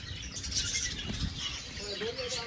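Sparrows chirp and twitter in a busy outdoor scene at Kankaria Lake, their calls mixed with background chatter and general noise.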